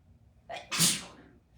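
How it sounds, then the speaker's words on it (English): A single close, loud sneeze with a short breathy intake before it, then quiet. "I have to sneeze."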